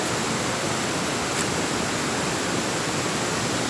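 A waterfall roars in a constant, dense, full-bodied rush, loud and close, with no voices over the steady falling water.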